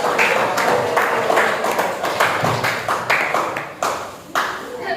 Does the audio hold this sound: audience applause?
yes